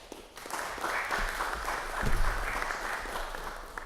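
An audience applauds at a fire rescue proclamation ceremony, a steady wash of clapping that swells slightly around the midpoint and holds for about four seconds at moderate distance.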